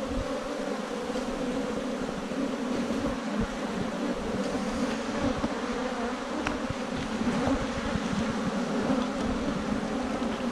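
A large honey bee swarm on a farm, a dense, sustained buzzing drone of many bees close by, steady and unbroken throughout with faint background noise.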